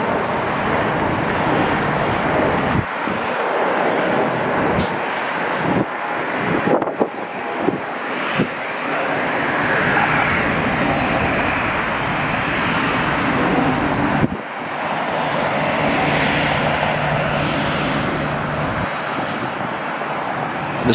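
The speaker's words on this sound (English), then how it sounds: "Next to takeoff is going to be November 807 NW A330-300." An Airbus A330-300 airliner, a 19-year-old former Northwest Airlines jet bound for Paris, takes off with a loud sustained engine roar, heard from the airport side amid wind buffeting the microphone.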